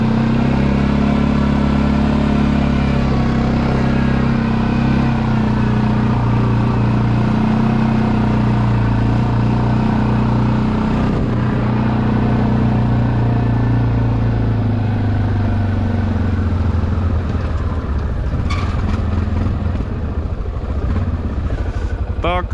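A Linhai 550 ATV engine drones loudly and continuously while towing a two-tonne Jeep Cherokee onto asphalt, its steady mid-pitched roar rising slightly as it shifts to a higher gear, with someone talking over it.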